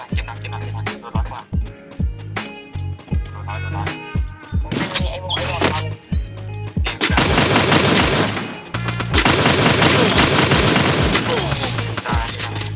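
Rapid gunfire in a shooting video game: sharp single shots at first, then dense automatic bursts, loud and close, with occasional player talk underneath.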